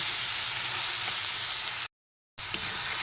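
Shrimp frying in a pan with a steady, even sizzle and hiss, briefly cut by a moment of silence before the sizzle resumes.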